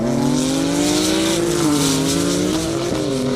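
A drag racing car, a Nissan GTR, roars through a high-speed pass on an airport runway strip, its engine note loud and sustained with the pitch climbing steadily through the gears.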